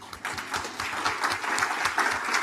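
An audience at a live entrepreneurs' event in Armenia claps together in a steady, even patter that stays consistent for the whole stretch, with no voices over it.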